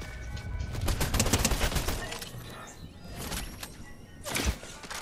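Rapid bursts of gunfire in the battle royale game Fortnite, dense volleys of cracks close by with short pauses, followed by scattered shots and a final sharp burst.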